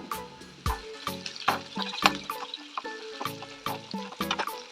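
Onions being sautéed in a pan for a Tamil beans poriyal, heard as close, irregular sizzling with repeated sharp scrapes and taps of a spatula against the pan.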